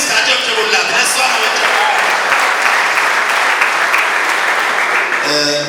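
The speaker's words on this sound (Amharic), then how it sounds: "አጨብጭቡላት" An audience at an Easter church celebration in Dire Dawa applauds loudly and continuously, a dense sustained clapping that fills the whole stretch with no break.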